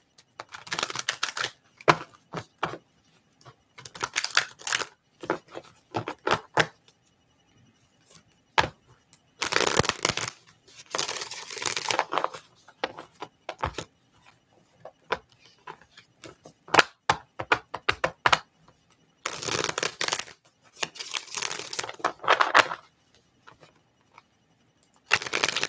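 Tarot cards being shuffled by hand, giving bursts of crisp riffling and flicking that come in uneven clusters separated by short pauses, close and fairly loud with no talk.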